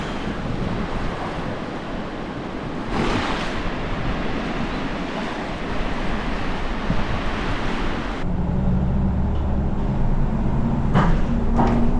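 Sea surf washes steadily onto the shore, a continuous broad rushing roar with wind buffeting the microphone, loud and unbroken, with a low hum joining in later.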